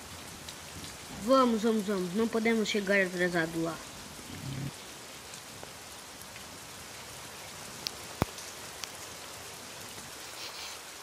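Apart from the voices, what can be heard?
rain in a video game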